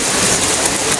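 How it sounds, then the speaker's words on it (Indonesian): Steady, loud rain pours down in a Sundanese village as a dense, even hiss with no pause and no voices. "Hujan dia, Bang."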